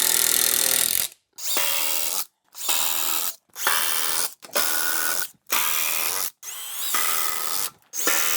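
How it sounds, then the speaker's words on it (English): A power drill drives screws into a 2x4 wood frame for DIY shelving in repeated loud, whirring bursts of about a second each, separated by short silent gaps, with the motor pitch shifting as each screw seats. "Just remember when you're throwing in a screw, until the gap closes,"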